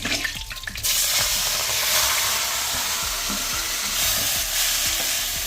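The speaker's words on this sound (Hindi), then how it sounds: "जो कढ़ाई में तेल है और उसमें जो तड़का दे रखा था उसमें राई के जो पत्ते काट रखे थे उसको भी डाल दिया है।" Chopped mustard leaves hit hot tempering oil in a kadhai with a sudden loud, steady sizzle that hisses on continuously, after a brief moment of clattering stirring.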